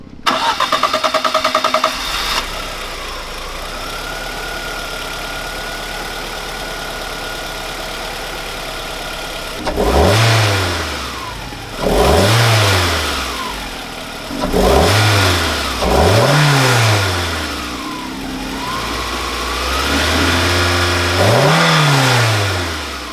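A Fiat Tipo 2.0 16v Sport engine cranks and fires, settles into a steady idle, then revs hard about five times in quick rising and falling bursts, loud and close.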